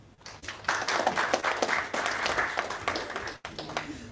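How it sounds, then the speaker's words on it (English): An audience at a 2023 cybersecurity CTF competition event claps and applauds, a dense, steady wash of many hands lasting several seconds, close and full, then cutting off abruptly before a brief trailing patter. "A hand of applause once again."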